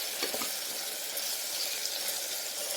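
Tomato pieces frying in a pan for a broad beans masala curry, a steady close hiss of sizzling with a couple of faint stirring scrapes near the start, no voices.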